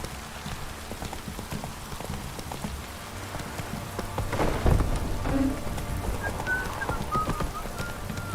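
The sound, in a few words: rain falling, from the video game The Witcher 3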